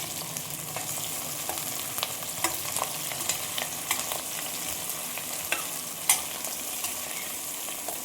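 Onion and two large tomatoes fry in a pan while being stirred, a steady moderate sizzle broken by scattered spatula scrapes and taps, one sharper clack near the end, and no voices.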